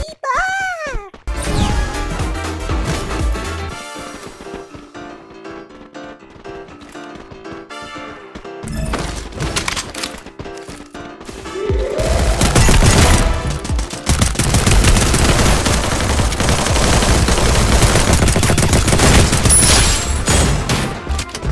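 Gunfire in the Free Fire mobile battle royale game, with game effects and tones at first, then dense, loud bursts of rapid shooting that continue without a break through the second half.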